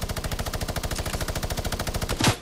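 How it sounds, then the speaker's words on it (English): A minigun firing in the game Fortnite, a fast, even stream of loud mechanical shots pulsing without a break, ending in a short sharp burst. "Do you like that sound? It's a mini gun, boy."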